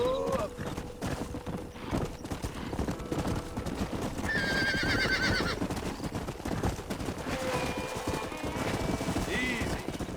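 A stallion in Red Dead Redemption whinnies loudly twice amid steady clip-clopping hooves, with game ambience and a voice speaking beneath.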